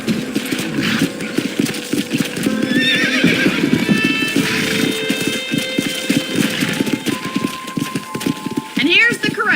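Horses neigh and whinny with hooves clip-clopping at a ranch corral in the video game Red Dead Redemption, a busy outdoor scene with voices talking throughout and some chiming tones.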